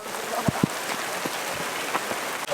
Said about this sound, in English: All of a sudden it just started raining super hard